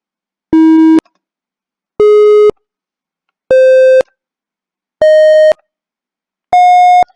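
Electronic beeps from a micro:bit fruit keyboard, five evenly spaced half-second tones, each stepping slightly higher in pitch as a pin is pressed, clean and loud with silence between them.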